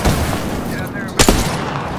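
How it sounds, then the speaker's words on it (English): Gunfire in the battle royale shooter Apex Legends: a sharp burst of shots rings out midway, loud against a dense game backdrop with music and effects underneath. "Opening fire on the enemy"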